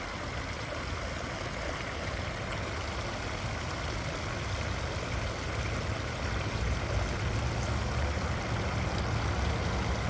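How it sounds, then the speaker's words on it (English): A small waterfall in a park pours in a steady, broad rushing hiss that stays even and close throughout, with no voices. "It's a little waterfall"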